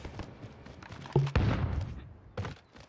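A few sharp shots and thuds from gunfire in Call of Duty Warzone ring out among quieter game noise, two close bangs standing out in the middle of the short stretch.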